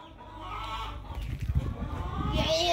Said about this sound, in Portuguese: E aí, galo?